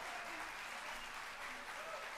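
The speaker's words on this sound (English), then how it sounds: "So let's give him a big round of applause." Steady applause from an audience of about 400 at a birthday celebration in a venue, a dense wash of clapping that holds evenly from start to finish without pause.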